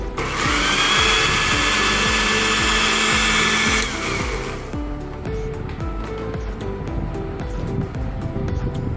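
A blender runs on a mango ice cream mixture, a loud steady whirring motor that drops in pitch and intensity partway through as the load changes, continuing close and alone.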